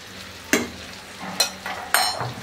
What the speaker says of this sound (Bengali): এখন এটাকে ভালো মতো মিশাই নিই।